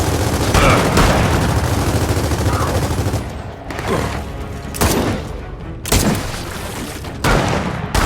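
Gunfire from snipers in the video game Gears of War 4, a series of sharp loud cracks and bursts every second or so over a dense, constant battle din with shouting voices mixed in.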